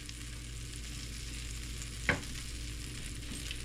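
Flour cooks in butter in a pan, giving a steady low sizzle and hiss throughout, with one short clatter of a stir partway in and no voices.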